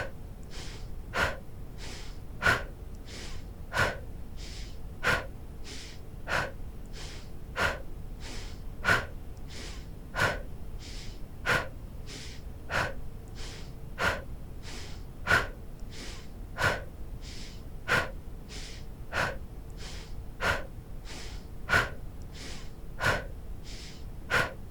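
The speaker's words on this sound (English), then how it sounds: "inhale into the belly through the nose and exhale, blow out the candle and speed it up" Rapid rhythmic breathing in a morning breathwork routine, a steady chain of about twenty forceful mouth exhales evenly spaced around a second apart, close and clear with no background.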